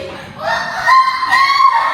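A voice imitates the shrill crow of a bantam chicken in a classroom, a loud, drawn-out, wavering call lasting nearly two seconds close to the listener.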